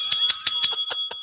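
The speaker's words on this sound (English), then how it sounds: "See this little bell thing?" A small bicycle-style bell rings in quick repeated dings, about seven bright metallic strikes in a rapid even rhythm, close and loud with no talking.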